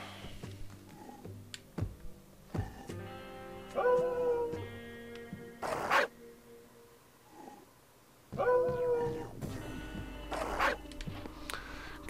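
A dog in the video game Catacomb Kids whines and yelps in short, pitched cries, repeating in two clusters with clicks and game effects between, fairly close and clear with no talk over it.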